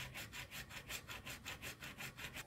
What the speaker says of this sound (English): Use the hacksaw to make a slot